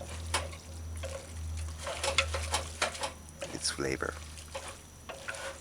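Lo mein noodles with sauce stirred in a pot or wok for an Asian Caribbean chicken dinner: soft repeated scraping and sizzling over a steady low hum, with a person talking throughout.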